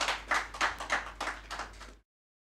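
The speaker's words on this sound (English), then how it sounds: "I think that deserves a round of applause." A small audience at a bank's annual financial results presentation gives a modest round of applause. About eight distinct claps fade over two seconds before an abrupt silence.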